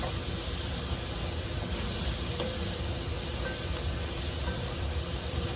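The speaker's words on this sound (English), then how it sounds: "we've got those onions sauteing down" Onions with garlic sautéing in a pan, a steady loud hiss of frying that holds evenly throughout, without talking or clear breaks.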